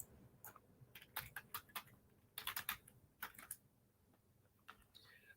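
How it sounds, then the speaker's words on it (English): Quick bursts of clicking keystrokes on a computer keyboard, close and quiet, in short irregular clusters with pauses between. "Let me type in Louisiana."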